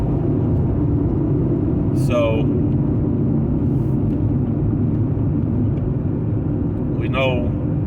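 A steady low road rumble of passing car traffic runs throughout, with someone speaking briefly over it and a couple of faint chirps.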